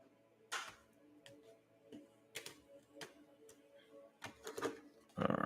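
Tarot cards being shuffled, a faint series of light papery flicks and soft taps in irregular quick bursts, building toward a louder riffle at the end.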